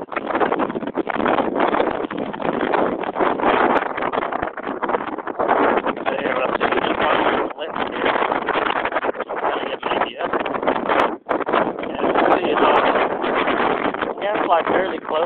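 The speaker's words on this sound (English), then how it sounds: "the wind changing up because we just went through a thermal" Strong wind rushes steadily over the microphone while paragliding through a thermal near trees, a loud continuous buffeting roar that barely lets up and briefly dips once, with voices talking beneath it.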